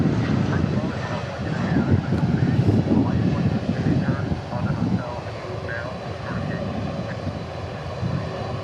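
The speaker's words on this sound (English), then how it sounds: "Looks like we got a Dreamliner waiting to take off here." A Boeing 787 Dreamliner waiting to take off at Dallas Fort Worth gives a steady, distant jet-engine rumble and hiss with some wind buffeting throughout.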